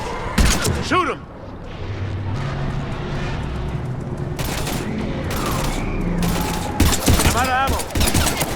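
Bursts of rapid gunfire and heavy booms from a Mass Effect 3 firefight on PC, loud and close, with several sharp volleys and sustained crackling under shouted voices.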